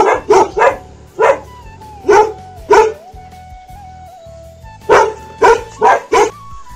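Bhotia guard dogs barking in a mountain village, a series of loud close barks in bursts with short pauses, a thin whine running between them.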